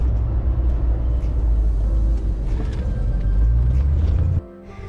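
A Foxbody Mustang 5.0 with newly fitted wheel spacers rolls along, a loud low engine and road rumble holding steady from inside the car before dropping away abruptly near the end.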